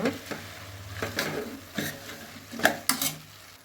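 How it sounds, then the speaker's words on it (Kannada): Sprouted beans with potato and brinjal are stirred in frying masala, making a few close spoon scrapes and knocks against the pan over a soft sizzle. "ಇವಾಗ ಒಂದೊಳ್ಳೆ ಮಿಕ್ಸ್ ಕೊಡೋಣ."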